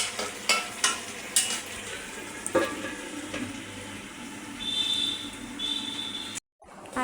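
Fish and potato fry being stirred in a pan: a spatula knocks and scrapes several times over a steady low sizzle, with a brief higher hiss toward the end and no talking.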